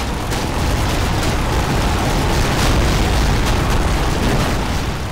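A vehicle explosion in the Empires video game, with the Victor APC being destroyed: a loud, dense, continuous rumbling blast that holds steady for several seconds, with no voices over it.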